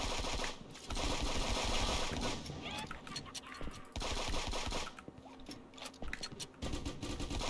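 Rapid automatic turret fire in an online multiplayer video game, with dense bursts of gunfire that pause briefly and then resume, close and loud, alongside other game noise.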